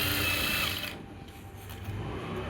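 Sewing machine stitching elastic into a three-year-old child's pants, a steady close mechanical whir that is louder at first and then drops to a quieter running hum.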